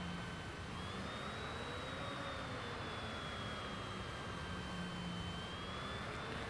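A steady airplane engine drones continuously in a flight simulator on a flight into Venezuela, an even mechanical whine with a faint tonal hum and no voices.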